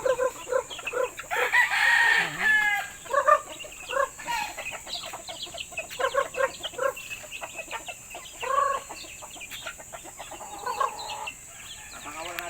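Chickens clucking and a rooster crowing nearby, with scattered squawks and rustling activity over several seconds.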